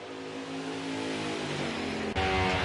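Dale Earnhardt's NASCAR stock car in a racing video game at New Hampshire Motor Speedway, its engine holding a loud steady high-rpm roar that swells sharply near the end.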